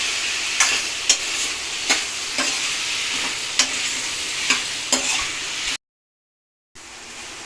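Food frying in sesame oil in a home kitchen: a steady, close sizzle with several sharp stirring knocks against the pan, then a brief cut to silence before the sizzle resumes.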